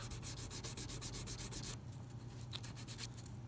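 Steady rhythmic strokes of 200 grit sandpaper rubbing along the sides of guitar frets during fret leveling, close and brisk, then a slightly softer, slower rubbing in the second half.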